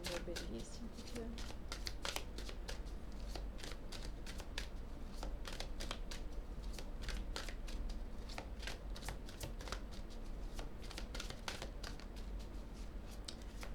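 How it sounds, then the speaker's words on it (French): Tarot cards are shuffled and drawn by hand in a steady run of crisp riffling flicks and soft slaps, close and continuous throughout, with faint background murmur. "Donc je vais tirer deux cartes"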